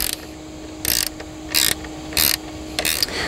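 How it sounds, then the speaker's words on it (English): A wrench tightens a 1/4 inch flange nut on an Adirondack chair, producing four short bursts of close, crisp ratcheting clicks separated by brief pauses. "Use your wrench to secure firmly."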